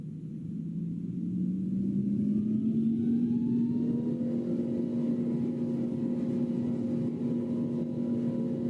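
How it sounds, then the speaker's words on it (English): Airliner engines in the Roblox flight game Project Flight spool up for takeoff, a steady droning hum rising in pitch and settling into a sustained whine, moderately quiet and continuous with no talking. "So those are the engines from the inside and outside."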